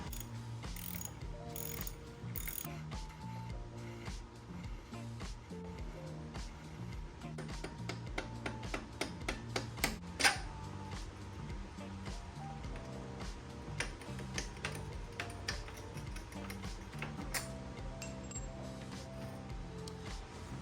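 Ratcheting wrench clicks and metallic tool sounds while bolts are undone during a rear shock install on a Triumph Tiger 900 Rally Pro motorcycle, steady mechanical clatter with repeated ratchet ticks and a sharper clank near the middle.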